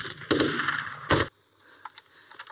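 Two sharp, loud gunshots from a war film crack a second apart, each a short burst, followed by quieter scattered clicks and rustling.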